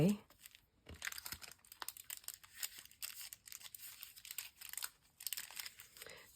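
Junk mail envelope paper being torn and crinkled close up in quick bursts of ripping and crumpling, fairly quiet, with a person talking over it.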